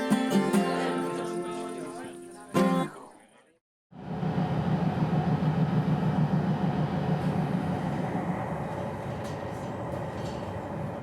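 Music plays first and cuts off, then after a short near-silent gap the steady rolling rumble of a travelling train sets in and holds, close and fairly loud, with its rhythmic clatter continuing to the end.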